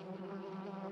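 Cartoon bees buzzing inside a small wooden beehive, a steady droning hum with no talk over it.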